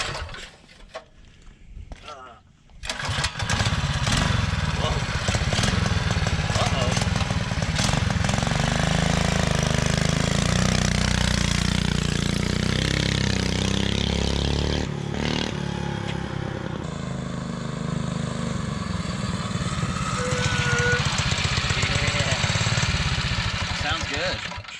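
A vehicle engine with a newly fitted intake cranks after a quiet moment, catches, and then runs loud and close at a steady, rough idle, with people talking over it.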